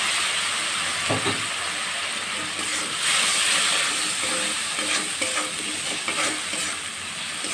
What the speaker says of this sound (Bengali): একটু জল দিয়ে দিচ্ছি মশলা কষানোর জন্য।